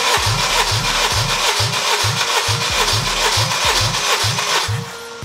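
A Honda K20 engine cranks over on the starter during a compression test, a rapid, even chugging rhythm of about a dozen compression strokes, loud and close, then stopping near the end.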